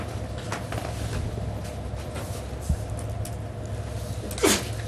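A single sharp sneeze cuts through a quiet, humming room during a legal deposition. It comes near the end, close and brief, after a low background rumble and a faint thump.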